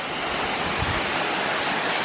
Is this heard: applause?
no